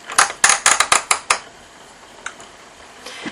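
A Passap knitting machine carriage knits rows in circular mode for children's socks, giving a quick run of about eight sharp, rhythmic mechanical clacks that stop after about a second, followed by near silence and a couple of faint clicks.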